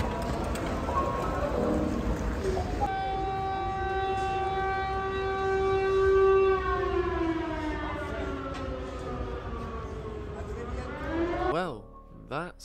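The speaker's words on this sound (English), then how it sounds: "Siren is slightly fucking concerning" A civil defense siren wails along a street in Cannes, holding a long sustained tone that slowly falls in pitch and ends in a rising and falling warble. It is loud and fairly near over steady background noise.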